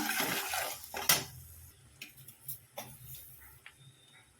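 Spices with salt and sugar are stirred and fried in a pot for khichuri: scattered scraping and clinking of a spoon against metal over a soft sizzle, close and fairly quiet, with no talking.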